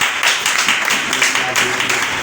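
A church congregation breaks into applause, a steady patter of many hands clapping at moderate loudness with voices mixed in.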